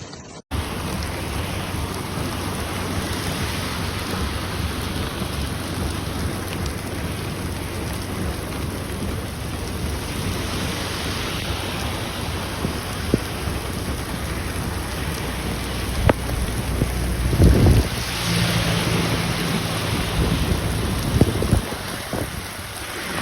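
Steady heavy rain pours on surfaces outdoors for the whole stretch, with low thunder rumbling underneath and a louder rumble near the end; no voices.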